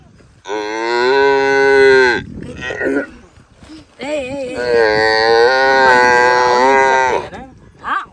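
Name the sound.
buffalo calf mooing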